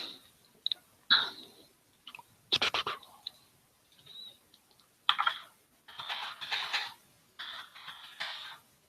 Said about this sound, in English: That's the sound of me feverishly scripting.